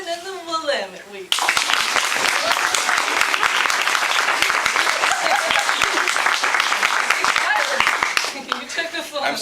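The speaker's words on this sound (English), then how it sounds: "let's do an applause meter" A crowd at a live magazine debate bursts into loud, dense applause after a brief stretch of talk, then keeps clapping steadily, with whoops and scattered voices mixed in, before it starts to thin near the end.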